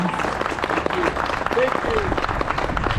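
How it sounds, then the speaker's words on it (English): Audience applause for a hoop dancer after her routine, a dense sustained wash of clapping throughout with a few brief voices or whistles rising above it. "Let's give her one more round of applause."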